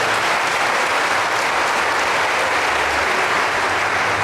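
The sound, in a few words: congregation applauding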